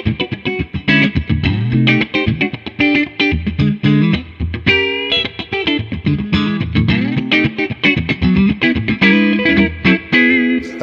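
Gretsch G6136-55GE Vintage Select Edition 1955 White Falcon electric guitar played on the middle pickup position, funky chord stabs and single-note licks with a slightly driven, effected tone, loud and close with no talking.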